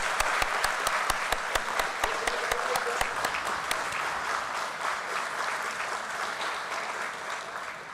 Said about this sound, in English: That calls for an applause, ladies and gentlemen.